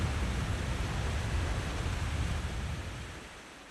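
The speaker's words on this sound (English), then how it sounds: "we got the water flowing again" Rushing, flowing water in the video game Zelda Twilight Princess, a steady broadband wash that fades slightly toward the end, with no talk.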